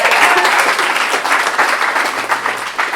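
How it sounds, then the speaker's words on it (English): Audience applause at a Startup Grind Los Angeles event, a loud dense crowd of clapping that holds steady and close with no talk over it. "Big round of applause for the Startup Grind people leaving."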